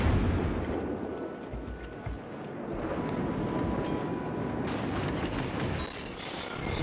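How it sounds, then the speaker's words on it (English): Naval gunfire and explosions from a World of Warships battle, a dense, continuous rumble of booming cannon blasts with scattered sharper bursts, loud and sustained throughout. "He's still shooting at me."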